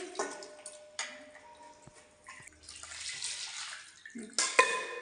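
Water running and splashing while bottles are rinsed clean, with uneven sloshes, drips and a few clinks, and a louder gush near the end. No one speaks.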